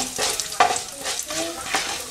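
Urad dal and black pepper dry-roasting in a pan, stirred briskly with repeated scraping strokes over a close, steady sizzle.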